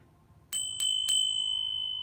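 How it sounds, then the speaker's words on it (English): Three quick metallic strikes on a Korean bell in a row, each ringing with a bright sustained tone that lingers and slowly fades, with no talking. "let's ring my Korean bell to get our reading started"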